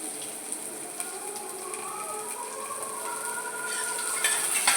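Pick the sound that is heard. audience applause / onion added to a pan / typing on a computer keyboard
onion added to a pan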